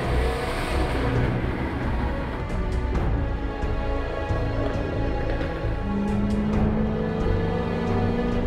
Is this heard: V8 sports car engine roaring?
yes